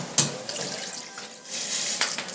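Tap water runs and splashes into a cooking pot, a steady hissing pour with brief surges and spatters, close and fairly loud with no talk.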